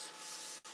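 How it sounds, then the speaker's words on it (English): Steady abrasive rubbing of sandpaper against a fountain pen blank on a lathe, continuous and close, with a brief dip near the end. "When I sand, I also clear the dust off of the sandpaper frequently"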